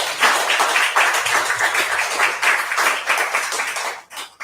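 Loud, dense clapping from an audience at a devotional Krishna class, continuing steadily for about four seconds before cutting off abruptly.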